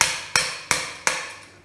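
Four sharp, evenly spaced taps of an old knife driven through thick lamb bone from an older animal during home butchery, close and crisp, each ringing briefly before the next.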